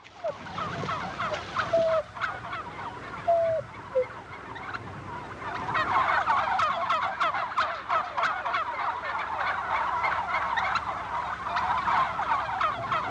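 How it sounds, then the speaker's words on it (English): A crowd of young turkey poults gobbling and peeping together, a dense chattering chorus that grows busier and louder after a few thin calls at the start. "They're called poults at this age"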